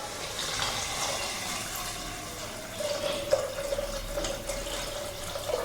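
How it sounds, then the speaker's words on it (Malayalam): Water pours into a pot of sautéed rice for Malabar ghee rice, a steady close splashing stream with a faint ringing tone that rises in pitch as the pot fills. "ഇതിലേക്ക് നമുക്ക് 4 കപ്പ് വെള്ളം ചേർത്ത് കൊടുക്കാം"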